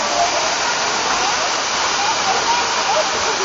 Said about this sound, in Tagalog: Ito yung sasabi nilang Katibawasan Falls.